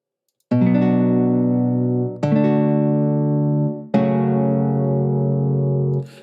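Programmed MIDI guitar strums from a Cubase 11 instrument ring out as three sustained chords, each struck sharply and left to decay, close and loud with no talking.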